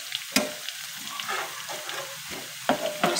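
Garlic frying in a pan until light brown for masoor dal, a steady close sizzle with occasional stirring clinks and scrapes.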